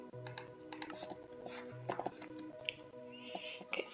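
Computer keyboard typing during Minecraft play, with scattered quick keystroke taps and short bursts under steady game background sounds, fairly faint and close.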